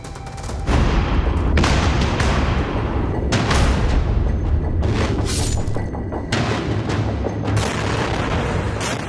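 Explosions and heavy blasts from an attack on Kharkiv, Ukraine, during the war with Russia: continuous loud booming and crackling with repeated sharp impacts over a dense roar, no voices.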